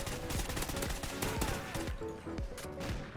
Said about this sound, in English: I hear bullets flying.